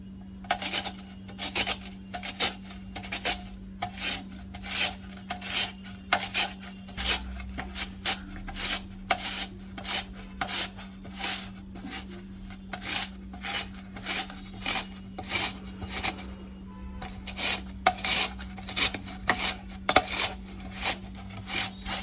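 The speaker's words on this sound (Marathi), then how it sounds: "आता आपण कैरी किसून घेऊया। एकाच दिशेने किसायचं जेणेकरून कैरीचा किस लांब लांब पडेल।" Raw green mango (kairi) grated on a grater in one direction, a long series of quick rasping strokes in a steady rhythm with brief pauses, close and clear over a low constant hum, no speech.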